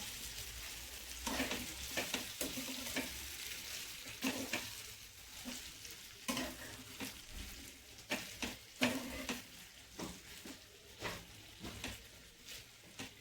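Paneer tikka masala fries gently over low gas, a faint, quiet sizzle with repeated stirring scrapes and taps in an uneven rhythm, heard alone with no talking.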